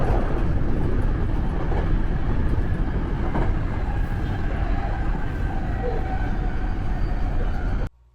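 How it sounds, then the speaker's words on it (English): Riding a train in Kyoto, Japan, a loud continuous low rumble and rattle of the carriage on the rails, steady throughout before cutting off abruptly at the end. "After that train ride that took about half an hour, we transferred trains"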